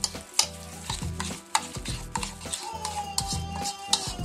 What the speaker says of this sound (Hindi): लेमन जूस इसमें डालेंगे और इन सब चीज़ों को अच्छी तरह से मिक्स कर लेंगे